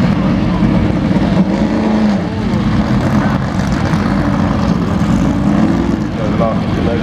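Group 5 sports cars lapping Goodwood circuit at a members' meeting demonstration, a loud continuous engine roar and drone with shifting pitch as cars pass, under a commentator's voice.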